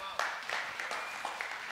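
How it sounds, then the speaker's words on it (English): Scattered applause rises briefly from a crowd, a handful of claps spread over a couple of seconds, fairly faint with a roomy echo. "Yeah, you can clap for that."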